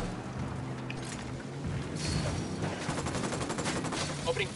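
Rapid bursts of video game gunfire, a dense crackling fusillade that builds in the second half, fairly loud and continuous with sharp shots peaking near the end.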